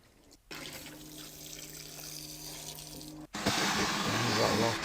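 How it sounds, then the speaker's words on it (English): Water hose rinsing down a hot tub: a quiet hum, then a sudden loud rush of spraying water splashing onto surfaces near the end, close by. "Rinse it all down."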